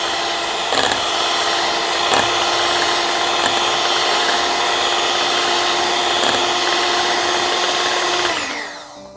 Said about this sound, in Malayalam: നമുക്ക് ആദ്യം വിപ്പിംഗ് ക്രീം നമുക്കൊന്ന് അടിച്ചെടുക്കാം